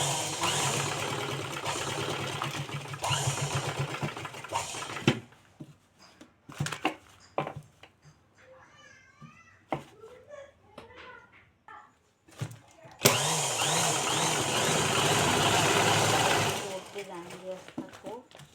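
A sewing machine stitches a handbag made from a plastic sack, running in steady loud bursts that stop and start, with quiet pauses between runs of stitching.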